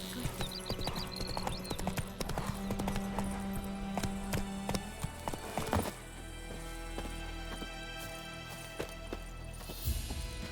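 Hooves of Roach, the horse in The Witcher 3 on PS5, clip-clop in a fast galloping rhythm, close and loud, with a brief whinny early on and other game sounds under it.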